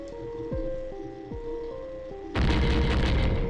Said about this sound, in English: And it looks like the system is overheating. What's going on? Shoot! It's gonna explode!